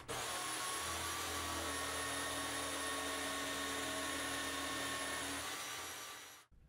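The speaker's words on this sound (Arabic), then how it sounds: "وهبدا بقى بمنشار الاركت افرغ الايد من جوه" Jigsaw cutting out the inside of a wooden handle, a continuous, close, loud buzzing whine that holds steady for about six seconds and then cuts off abruptly.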